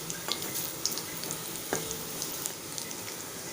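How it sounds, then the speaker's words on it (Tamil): Garlic cloves sautéing in oil for potato garlic rings: a quiet, even crackling sizzle with a few sharp pops and light spatula taps, heard alone without speech. "நம்ம எடுத்து வச்ச இந்த பூண்டு பற்கள் சேர்த்துக்கலாம். இது நல்லா வதங்கட்டும்."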